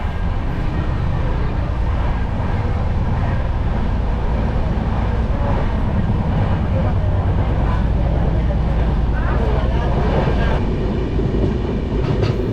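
Sleeper coach of the Sampark Kranti Express running on the rails, a loud continuous rumble with rhythmic wheel clatter throughout, heard from inside the carriage.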